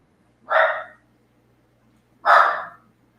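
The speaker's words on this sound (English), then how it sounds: "I have a dog here" A dog gives two loud, separate barks about two seconds apart, close by, with near silence between them.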